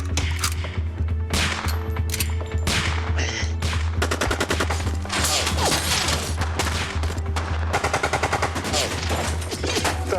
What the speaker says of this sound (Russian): Так до утра палить можно.